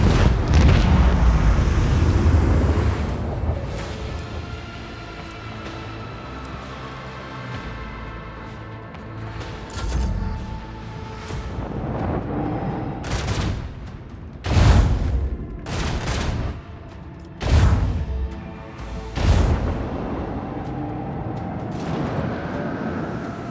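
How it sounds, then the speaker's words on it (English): A spaceship's macro cannons fire a barrage in the Warhammer 40,000 Rogue Trader video game: a heavy rumbling roar, then a string of sharp, booming blasts in irregular bursts. "show them the fury of our macro cannons"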